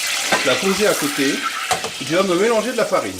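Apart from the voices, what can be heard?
beef bourguignon fat sizzling in a saucepan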